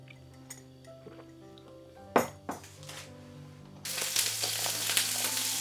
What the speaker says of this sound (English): As it starts sizzling